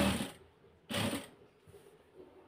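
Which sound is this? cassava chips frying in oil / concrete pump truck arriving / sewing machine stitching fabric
sewing machine stitching fabric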